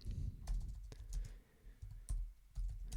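Keys clack on a computer keyboard in quick irregular clusters with short pauses, close and fairly quiet, with no talking.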